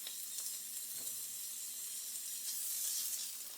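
Sausage sizzles steadily in a pan with about two tablespoons of oil, a continuous bright crackling hiss that holds even and close throughout, with no voices over it.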